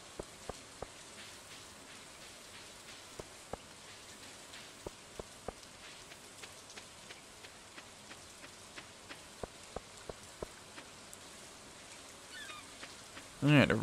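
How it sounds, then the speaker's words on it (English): Rain falling on a beach in the Stardew Valley farming game: a steady soft hiss of rainfall with scattered light drip-like taps throughout, fairly quiet, and a brief louder noise at the very end. "Alright, a rainy day down on the beach."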